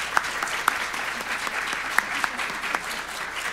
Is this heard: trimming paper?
no